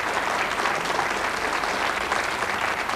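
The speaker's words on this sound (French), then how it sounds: "On vous applaudit, Jacques. Allez, bravo." Audience applause fills a hall at a music event, a dense, even wash of many hands clapping at full strength from start to finish with no talk over it.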